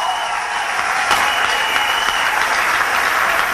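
A church congregation at a central temple claps together in continuous, dense applause, an even wash of many hands sustained throughout with no clear breaks.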